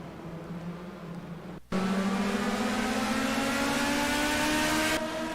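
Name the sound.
Formula 1 car engines racing in a video game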